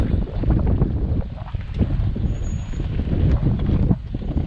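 An off-road vehicle crawls slowly over granite and concrete rock formations, a steady low rumble with wind buffeting the microphone throughout.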